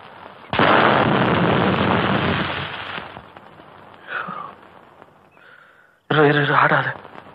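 A homemade bomb goes off with a loud, close blast that rumbles for a few seconds, followed by voices and another sharp burst.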